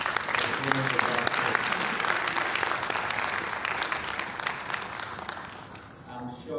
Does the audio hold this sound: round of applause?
yes